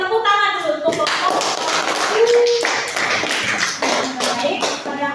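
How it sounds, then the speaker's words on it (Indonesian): Classroom applause for a student group after a presentation, a brisk round of clapping from a modest group nearby, mixed with voices talking and a brief shuffle. "Tepuk tangan dulu untuk kelompok"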